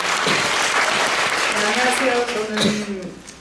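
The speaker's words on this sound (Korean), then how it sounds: "인사 큰 박수로 맞이해 주시기 바랍니다" A theatre audience applauds during the curtain call of the musical The Devil: Eden, dense sustained clapping close by, with a voice speaking through it.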